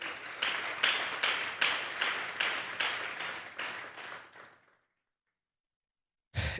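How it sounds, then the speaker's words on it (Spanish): A church congregation at a Sunday afternoon service gives a strong round of applause, dense rhythmic clapping that swells and then fades to silence, with no voices over it. "Dele un fuerte aplauso al Señor esta tarde."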